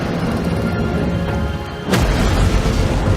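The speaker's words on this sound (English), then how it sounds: "when this huge ship capsized, a monstrous explosion erupted." A huge battleship, the Yamato, capsizes and explodes: a deep boom erupts out of a dense, constant roar and rumbles on loudly, with no voices over it.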